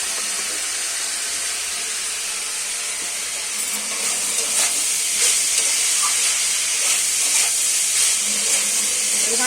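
Oil with a little turmeric fries in a pan for chire polao, a steady close hiss and sizzle that grows slightly busier partway through, with no talk over it.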